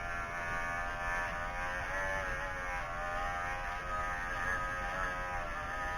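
Electric clippers grooming a small dog named Luma, a steady close buzzing hum that runs unbroken and fairly loud from start to end, with no talking.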